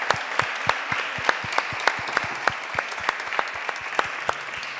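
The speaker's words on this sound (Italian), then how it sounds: "un grande applauso" Applause from an audience at a beer masterclass during a food festival, a steady patter of many clapping hands with sharp individual claps standing out, fairly close and sustained throughout.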